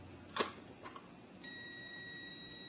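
After a couple of soft clicks, a quiet multimeter continuity buzzer starts and holds a steady, thin electronic beep to the end.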